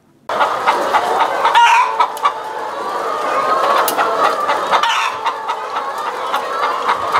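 A dense flock of laying hens on a Romanian poultry farm of about 8,000 birds, clucking and chattering continuously, close and loud, with scattered sharper squawks throughout.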